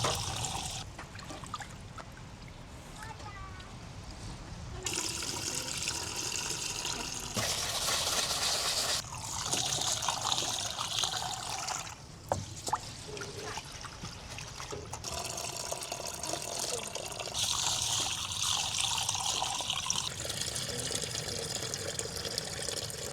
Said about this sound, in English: So that's why they gotta rinse it off quick. And then you can kind of like mix it, like kind of wash it.